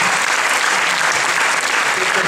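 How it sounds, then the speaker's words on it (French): Audience applause for the crew of the animated film Ernest et Celestine, dense continuous clapping filling the room, close and loud without letup. "j'aimerais qu'on les applaudisse bien fort pour tout ça"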